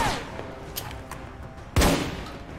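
Submachine gun fire from an enemy in the video game Alpha Protocol: a dense, rattling burst crackles through a cluttered game mix, with one loud, sharp report near the end standing out.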